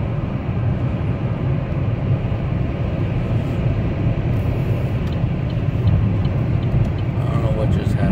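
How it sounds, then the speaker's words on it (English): Car engine and road roar on a highway at high speed, a loud, steady rumble that fills the whole cabin throughout. "You want me to romp on my gas real quick?"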